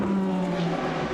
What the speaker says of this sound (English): the number 8 car once again passed